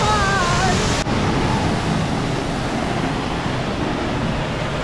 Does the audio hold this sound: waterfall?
yes